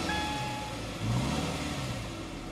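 A Subaru Crosstrek engine with stock exhaust revs up from a steady rumble, with a rising surge about a second in, then holding a loud, even drone.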